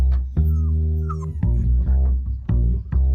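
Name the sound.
dog whimpering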